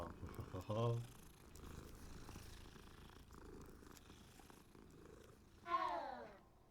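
A soft, steady purr from a cat in the video game Hogwarts Legacy runs beneath quiet background sounds, with a brief sharp chirp near the start and a rising warble near the end.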